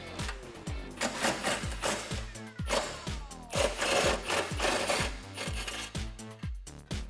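A 13mm socket on an extension turns an exhaust hanger bolt on a 2008-2022 Dodge Challenger, giving quick rapid ratchet clicks in steady bursts, faint and close, with no talking.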